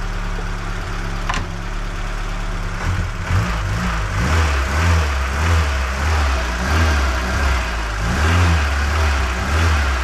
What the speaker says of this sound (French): Là c'est le moteur à travail.